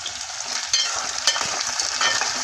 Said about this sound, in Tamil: இதெல்லாம் நல்லா வதக்கி விட்டுறலாம்